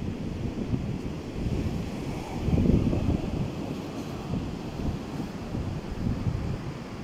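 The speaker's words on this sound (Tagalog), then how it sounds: "malakas yung alon dito sa dagat ng Umiray ng Dingalan, Aurora." Heavy surf crashes steadily on a beach at Umiray, Dingalan, Aurora, a continuous low roar of breaking waves with gusty wind buffeting the microphone.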